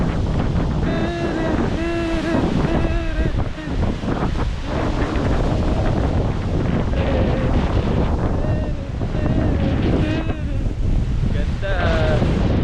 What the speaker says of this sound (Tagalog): malakas yung hangin, malakas yung alon